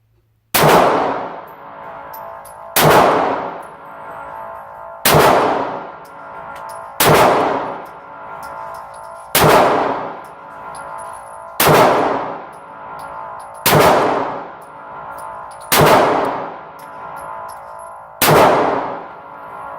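Nine pistol shots from a Glock 43 fitted with a Pure Carry trigger kit, fired two-handed at a range target. The evenly spaced, loud, sharp reports each ring out briefly before the next.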